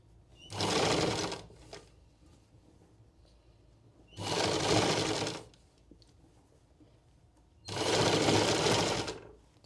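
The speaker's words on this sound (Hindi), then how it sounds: "जब आप सिलाई एंड करोगे तो जहाँ से शुरू किया है वहीं पे एंड नहीं करना, थोड़ा आगे जाके एंड करना है" A sewing machine stitches a sleeve onto a blouse in three separate bursts of rapid, even stitching, each lasting about a second, with quiet pauses between them.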